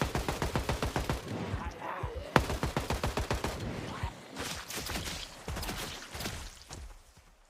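Rapid bursts of automatic gunfire from a video game firing animation, sharp regular shots repeating in quick strings with brief pauses between volleys, loud and close, with a single heavier crack partway through.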